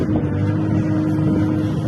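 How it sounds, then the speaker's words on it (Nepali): Strong mountain wind in snowy Jomsom, Mustang buffets the microphone with a loud, steady low rumble and gusty roar, no voices. "अनि हावा उडिरहेको छ माथितिर"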